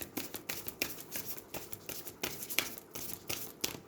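Tarot cards being shuffled by hand, a close, steady run of crisp riffling flutters and soft slaps repeating rhythmically with no talking.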